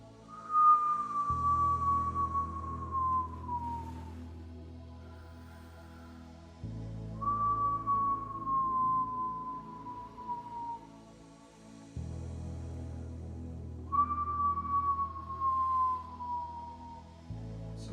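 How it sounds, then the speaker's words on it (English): Whistle breath from Kundalini yoga: air is blown out through puckered lips in three long, soft exhaled whistles, each a clear tone sliding gently downward and lasting about three seconds, with quiet breathy pauses between. "Now whistle breath can be done on an inhale, on an exhale, or both."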